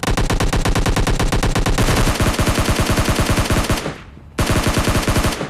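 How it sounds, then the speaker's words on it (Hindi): Sustained automatic gunfire from PUBG Mobile Lite, a dense, loud run of rapid shots with a brief pause near the end before the burst resumes. "जब वो गन शॉट की आवाज़ आ रही है ना, अब ये ऑटो में चल रही है"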